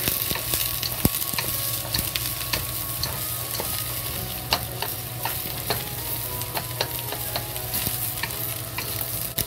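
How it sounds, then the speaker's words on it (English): Cabbage stir-frying with onion in a wok, a continuous close sizzle with frequent spatula scrapes and clacks against the metal, no talking. "Fry the cabbage."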